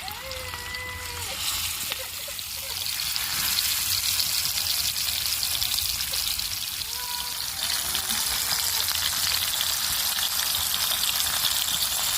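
Fish frying in hot oil in a home kitchen, a dense continuous sizzle and crackle with faint bubbling, close and steady throughout.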